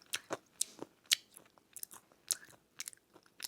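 Someone crunches a crunchy, salty Filipino snack, with a series of sharp, close bites and chewing crunches arriving in an irregular rhythm and no talk.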